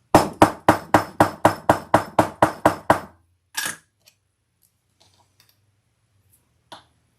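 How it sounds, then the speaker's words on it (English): A hammer pounds a leather strap end about ten times in a quick, steady rhythm, loud and close, followed by a brief rattle and quiet handling. "I'm gonna have to pound this"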